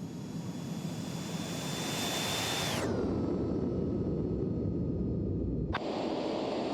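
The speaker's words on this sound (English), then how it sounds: "Here's a flyby for you." A TorqueSim CitationJet 525 in X-Plane 12 roars past in a loud, steady jet flyby, its high whine dropping sharply in pitch partway through before a brief cut, with no voices.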